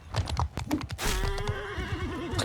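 A horse in the video game Mount & Blade II: Bannerlord neighs loudly with a long whinny after a burst of clip-clopping galloping hooves, mixed with other battle noise.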